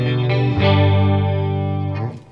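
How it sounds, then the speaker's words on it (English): A Peavey Vypyr Tube 60 amp's rack chorus effect on electric guitar: a single sustained chord rings out with a shimmering, wide, warbling chorus and slowly fades over about two seconds. "If we were to select the chorus off the rack effects"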